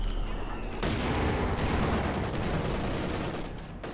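Dense artillery barrage of white phosphorus shells in Company of Heroes 2, a WWII real-time strategy game: a continuous roar of overlapping explosive bursts and crackling impacts, loud and sustained across the whole stretch with no speech.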